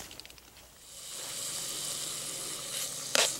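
Chunks of frozen Italian sausage fry over a rocket stove at camp, a sizzle that swells from quiet to a steady hiss, with a few light taps early on and a sharp crackle near the end.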